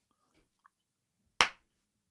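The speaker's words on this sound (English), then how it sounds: "do me a favor and clap" A single sharp hand clap for an audio sync check, close and crisp after near silence, with a faint tiny click shortly before it.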